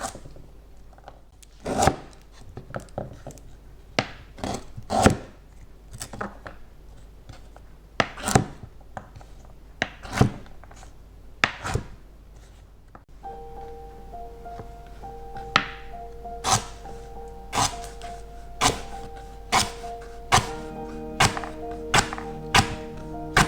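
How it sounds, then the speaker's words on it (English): Knife chopping food into small pieces on a board while making beef curry with coconut cream and potatoes, irregular sharp thunks spaced a second or two apart, with a faint steady tone entering midway. "Gonna chop them to small pieces and cut them."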